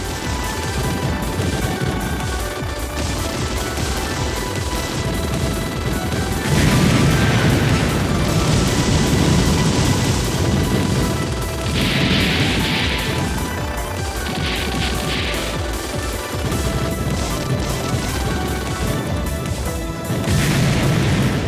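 Constant loud barrage of machine-gun fire and explosions from the Xbox 360 shoot-'em-up DoDonPachi Resurrection, layered over background music, with bursts of crashes and booms through the whole stretch.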